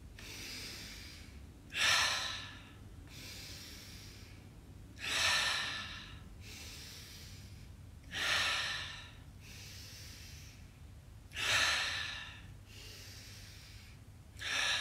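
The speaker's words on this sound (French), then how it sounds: "On va prendre 5 grandes inspirations par le nez, 5 grandes expirations par la bouche ensemble." Deep breaths, drawn in through the nose and let out through the mouth, during a morning yoga routine for neck and shoulder pain. About four slow, close breath cycles come at a steady rhythm, each with a soft airy exhale, over a low hum, with no talking.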